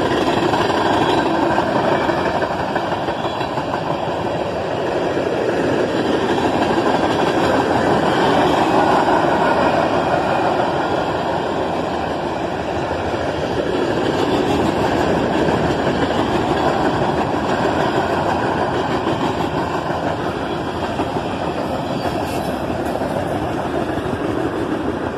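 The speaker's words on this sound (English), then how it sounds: "This train just seems to keep coming and coming." A long loaded coal train with an ET44AH distributed power locomotive rolls past close by, a continuous heavy rumble of wagons with rhythmic wheel clatter and engine drone sustained at a steady loud level.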